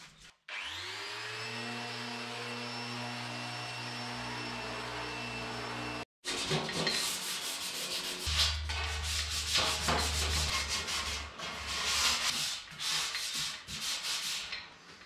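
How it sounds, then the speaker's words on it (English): Rusty car headlight buckets being sanded: a power sander whines steadily at first, then after a brief cut gives loud, scratchy, uneven grinding and rubbing against the metal. "they're going to start sanding those as well."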